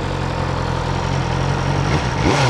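A BMW S1000R motorcycle with its stock exhaust rumbles loudly and close at a steady idle, the engine tone rising briefly near the end.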